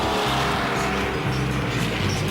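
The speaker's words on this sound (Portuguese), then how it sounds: "Aqui, o ronco dos motores só conta metade da história." Race car engines roar steadily at a driving school racetrack, a dense continuous drone with shifting engine tones and faint tire noise, close and loud throughout.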